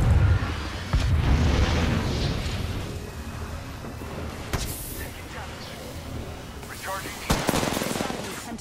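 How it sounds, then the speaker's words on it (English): Gunshots and booming blasts ring out in a video game battle, with sharp shot spikes scattered across a busy mix of effects and game audio. "Taking shots."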